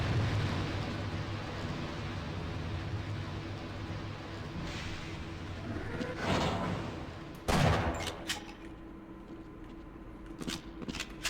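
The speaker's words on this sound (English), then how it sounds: "Shooting out rockets." Rockets launch and explode in Half-Life over a steady rumbling background. Two heavy blasts stand out near the end, followed by a few smaller sharp bangs.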